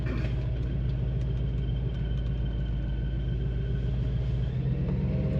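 A Crown Vic with a 7.3L Godzilla V8 swap and Whipple supercharger drives along, its deep engine rumble loud and steady throughout, with a shift in tone near the end.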